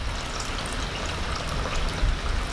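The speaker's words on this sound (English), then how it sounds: "And what I'm going to do is pour this chicken stock" Chicken stock pours into a pot of turnip greens, a steady splashing trickle that runs without a break, close and fairly loud, with no voices over it.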